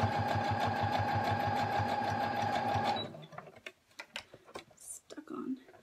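A sewing machine runs steadily while stitching stretched elastic onto a mitten, a fast rhythmic mechanical whir lasting about three seconds, then it stops, leaving soft handling clicks and rustles.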